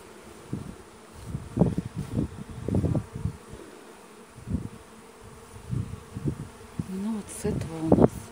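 Honey bees pour out of a hive in a second swarm, a loud, dense buzzing that swells and fades in waves, close to the hive entrance.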